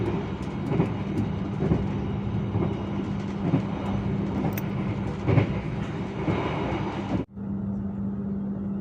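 KA Mataram economy-class passenger train rolling along the rails at night, a steady loud rumble with a low hum and faint clicks until a sudden drop near the end, then a quieter steady drone.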